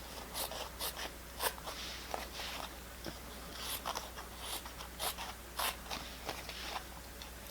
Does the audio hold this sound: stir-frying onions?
no